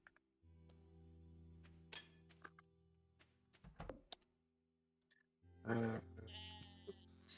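Sheep in the farming video game Stardew Valley give long wavering bleats, one early and another louder near the end, with a few clunks and clicks between them and a brief hesitant voice.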